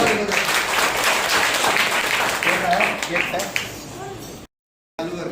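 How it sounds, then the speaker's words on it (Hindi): A church congregation at a Resurrection Sunday service applauding loudly, with sustained dense clapping that fades out before a brief silence. "जोरदार ताली बजाओ।"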